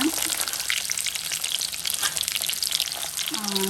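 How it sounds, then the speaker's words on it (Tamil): Onion and garlic frying in a generous pour of sesame oil after mustard seeds were tempered, giving a continuous soft sizzle and crackle with occasional stirring scrapes, fairly quiet and close. "நல்லெண்ணெயை ஊற்றிடணும். இது சூடாகட்டும். வெங்காயம் நான் சேர்த்துட்டேன். இப்போ பூண்டு போட்டுக்கோங்க"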